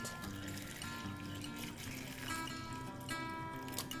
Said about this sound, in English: So I'm going to add water a bit.